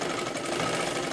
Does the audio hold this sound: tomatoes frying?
no